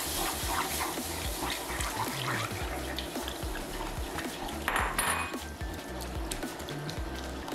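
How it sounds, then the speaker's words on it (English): Beef broth being stirred into gravy in a hot pan for crockpot short ribs gives a dense, continuous bubbling sizzle with scattered utensil scrapes and clinks, close and loud with no talking. "As you're adding the broth, make sure you stir it because you don't want any lump"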